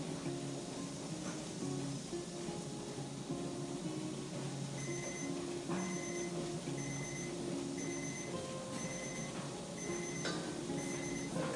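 A kitchen timer on an off-grid homestead beeps in short, evenly spaced bursts, repeating steadily and fairly quiet over a constant low hiss of steam and room noise.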